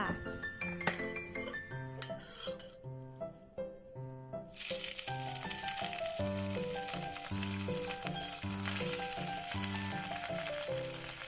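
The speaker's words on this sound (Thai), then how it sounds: "พอน้ำมันร้อนแล้ว จึงใส่เส้นใหญ่ตามลงไปค่ะ" Wide rice noodles dropped into hot oil in a wok for Hong Kong-style rad na, a loud, steady sizzle that bursts in midway and keeps going under background music, with some clinks of utensils earlier.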